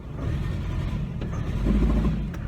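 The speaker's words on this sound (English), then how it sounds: "Put it in drive, step on the brake, give a little bit of gas, it kind of bogs down." Chevrolet Cavalier engine with a misfire and suspected failing fuel pump bogging down under load in drive with the brake held, a low, uneven rumbling drone that swells slightly toward the end, close and steady.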